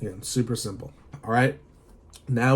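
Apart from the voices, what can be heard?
None of the usual background noises is heard.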